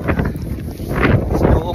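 Strong wind during bad weather roars and buffets the microphone in a continuous rough rush, with a voice faintly audible beneath it.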